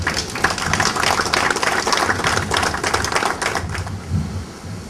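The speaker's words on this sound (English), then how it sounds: "And I think he deserves a round of applause." Sustained applause from a crowd, dense clapping filling the room for several seconds before tapering off near the end.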